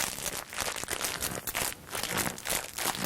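Starch squeezed as a foley effect imitates footsteps crunching through snow: loud, close, gritty crunches in a steady, step-like rhythm.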